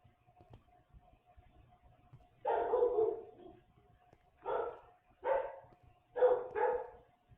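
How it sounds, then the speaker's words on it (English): A loud dog barks nearby in short bursts, a double bark followed by single barks and a final quick pair, over a faint background hum. "and my dog is so loud."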